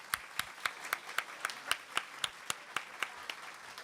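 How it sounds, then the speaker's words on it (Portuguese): Faint, distant clapping at a legislative labor committee session, a steady rhythmic pattern of evenly spaced claps, about four per second, with no talk over it. "Peço uma salva de palmas para ela."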